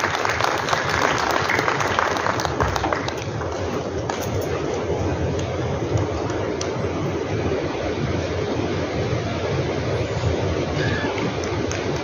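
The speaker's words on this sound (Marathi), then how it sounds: "आपण जोरात टाळ्या वाजवून" An audience at a community jayanti gathering claps steadily to welcome a chief guest, a dense, continuous wash of hands that stays loud and even for the whole stretch, with no voices over it.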